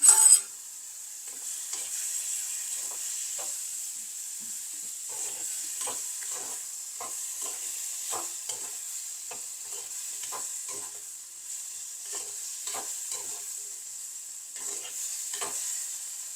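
Ponnaganni greens and jackfruit seeds sautéing in a pan, a steady faint sizzle and hiss running throughout with repeated soft stirring scrapes and taps of the spatula, close and alone.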